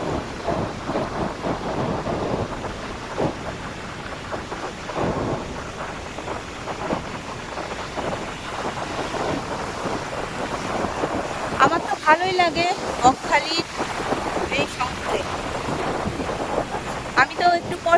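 Morning sea waves and wind at Bakkhali beach, a continuous loud rush of surf and gusting air over the microphone, with a voice talking faintly under it.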